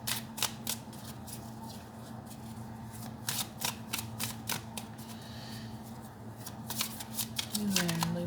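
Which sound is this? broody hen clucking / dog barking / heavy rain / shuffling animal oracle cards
shuffling animal oracle cards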